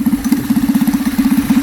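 A small stationary engine mounted on a motorized skateboard runs close by with a steady, fast chugging pulse, loud and alone with no talk.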